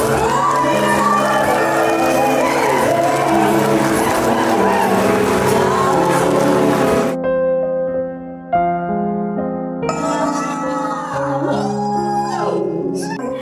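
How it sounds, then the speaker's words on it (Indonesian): Wedding guests at a Balinese wedding reception in Sanur cheer and clap loudly, with shouts and whoops over music; the crowd noise drops out briefly midway, leaving a tonal music passage, then voices return. "tepuk tangan yang meriah"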